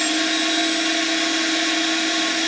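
Sanding a teak bowl on a lathe with 120-grit abrasive: a steady, loud broadband whir and hiss with a few tonal lines, continuous without breaks and no voices.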